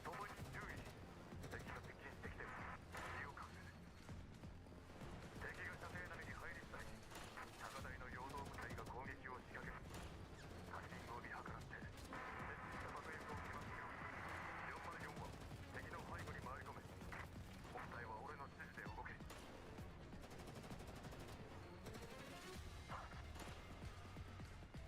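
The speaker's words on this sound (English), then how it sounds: "an ear-splitting alarm goes off in the northeast, followed by a vicious burst of gunfire" Sustained gunfire bursts in the video game Girls Frontline 2: Exilium during a battle, rapid shots and crashes rolling continuously over a dense, loud game soundtrack with voices mixed in.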